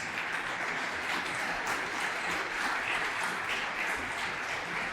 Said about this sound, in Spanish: ¿Por qué no le da un aplauso al Señor en esta hora?